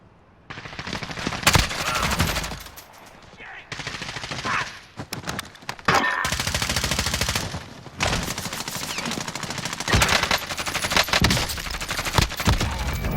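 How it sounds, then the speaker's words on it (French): Gunfire in Call of Duty Modern Warfare: loud, close bursts of automatic fire and rapid shots in clusters separated by short pauses, with occasional player voices in the background. "Je me fais tirer dessus."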